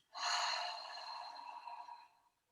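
A single long exhale pushed out through the mouth during a morning yoga breathing exercise, close and breathy, swelling quickly then tapering away over about two seconds, alone without talk.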